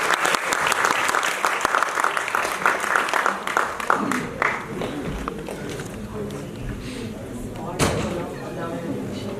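Loud, enthusiastic applause breaks out from a theatre festival audience for two doctors, thick clapping for about four seconds that thins out, with scattered thumps and a sharp bang later amid quieter hall noise.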